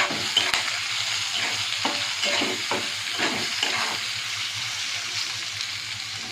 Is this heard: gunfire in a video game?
no